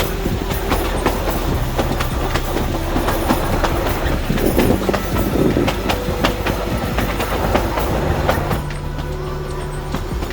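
A century-old narrow-gauge toy train running from Bilimora to Waghai, heard from on board: continuous loud rattling and clickety-clack of wheels on the rails with a low mechanical drone underneath, and no talking.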